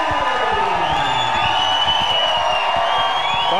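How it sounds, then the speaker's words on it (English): A crowd at an MMA fight night roars and cheers for a fighter, a loud sustained wall of shouting and whooping with scattered clapping. "It looks like everybody in the VIP seats just stood up and went crazy all of a sudden"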